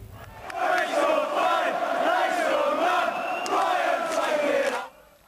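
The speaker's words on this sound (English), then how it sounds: "Homophobic chanting at a match involving Brighton and Hove Albion" A large football crowd at a Brighton and Hove Albion match chants in unison with homophobic words, a loud sustained rhythmic roar of many voices that cuts off abruptly at the end.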